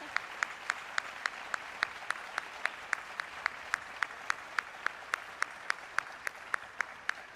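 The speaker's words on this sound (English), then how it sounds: "Let's give them a double round of applause." Faint, sparse clapping at an African American history calendar unveiling ceremony, sharp individual claps landing in a steady even rhythm, a few hands rather than a full crowd, with no talk over them.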